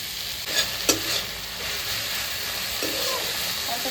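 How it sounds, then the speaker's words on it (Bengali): Cumin and chili paste hit a pan of fried onions and sizzle steadily and loudly, with a couple of sharp spoon scrapes near the start as the mixture is stirred. "পেঁয়াজগুলো ভাজা ভাজা হয়ে গেছে, এবার এর মধ্যে আমি জিরা ও লঙ্কা বাটাটা দিয়ে দিচ্ছি।"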